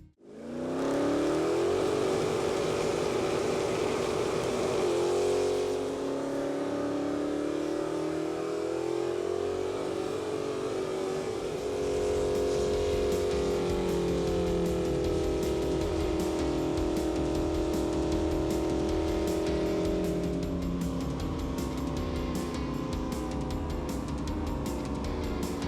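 A 1968 Dodge Charger engine revs hard and close, its pitch climbing and holding in long, loud surges, then easing off and rising again, with no voices over it.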